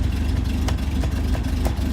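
A 1961 Triumph TR3A engine idles steadily up close, a dense low rumble with a few faint ticks and a light choke-on roughness, running alone without talk.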